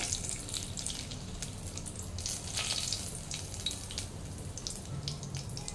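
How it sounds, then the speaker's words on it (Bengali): A bay leaf drops into hot oil for tempering and gives a steady, soft sizzle with fine crackles throughout, close and alone, with no voices. "তেলটা একটু গরম হয়ে গেলে আমি ফোড়নগুলো দিয়ে দেব। প্রথমেই দিচ্ছি তেজপাতা"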